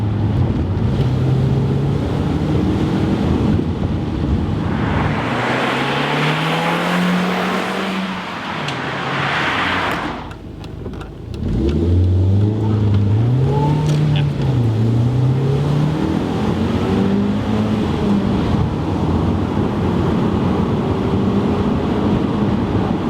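An Audi TT engine revs up through the gears as the car accelerates, pitch climbing, dropping at a shift, then rising again in rising sweeps under steady wind and road noise from inside the cabin.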